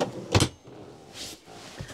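A caravan drawer slides and knocks shut with one sharp clack near the start, followed by softer sliding and rubbing sounds close by.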